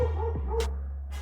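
A single short dog bark or yip, somewhat distant, over a steady low hum and faint outdoor background.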